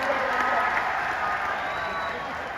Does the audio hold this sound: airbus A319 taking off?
no